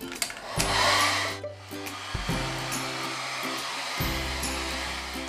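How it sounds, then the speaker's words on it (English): A hair dryer blows steadily on fabric with a droning motor hum, its pitch shifting as it switches speeds a few times. "now I'll be using a blow dryer to just uh, make it look more lighter"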